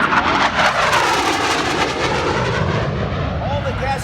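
A Harrier jet roars at an air show, its loud steady engine whine filling the whole stretch while people talk nearby.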